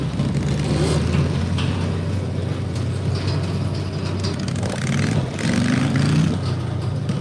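A garden tractor at a tractor pull in Ohio drones loudly and steadily under load, with rattling mechanical clatter and a brief dip before the engine rises again.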